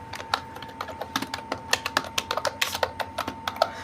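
Someone types a short prompt on a computer keyboard, a quick irregular run of crisp key clicks, close and clear with no talking.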